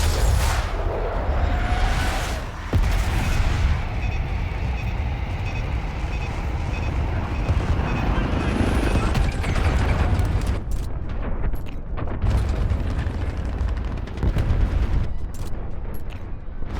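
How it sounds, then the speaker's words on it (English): Air-support bombs exploding in Call of Duty Black Ops 6 on the Cradle mission, heavy booming blasts and rumbling debris rolling continuously, loud and close, with dense battlefield noise throughout. "Bombs away."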